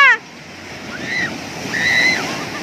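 Strong sea waves break on a beach, a loud windy surf wash that swells and recedes, with children's voices and whistling sounds faintly over it.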